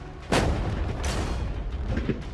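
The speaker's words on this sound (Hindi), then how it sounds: "पहले बाकी शॉट्स फायर कर लेते हैं।" A gunshot fired at a container holding money, one loud, close booming report followed by a rumbling tail and fainter thuds.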